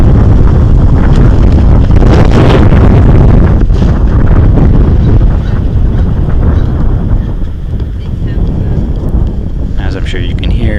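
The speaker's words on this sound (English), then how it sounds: "As I'm sure you can hear at home, it's getting very blustery here." Strong, blustery wind buffets an outdoor bowls green, rumbling hard and close against the microphone in continuous gusts that ease slightly near the end, with a voice talking under it.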